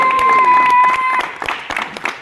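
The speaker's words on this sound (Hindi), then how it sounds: "वहीद अहमद साहब के लिए बहुत सारी तालियां" Audience applause for an associate director at a stage show with cake cutting: a brief burst of clapping under steady tones, thinning out toward the end.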